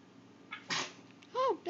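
A baby's short sneeze in a home, a brief burst followed by a small squeaky vocal sound, close and fairly soft.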